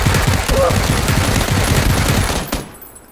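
Sustained automatic gunfire in PUBG (Playerunknown's Battlegrounds) rattles in a rapid, loud stream of shots for about two and a half seconds, then cuts off and fades to quiet.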